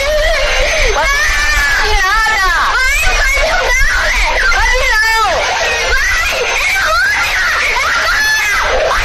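Children scream in a video game: a dense chorus of high, wavering shrieks and wails, loud and continuous over a crowd-like babble, with no pause across the whole stretch.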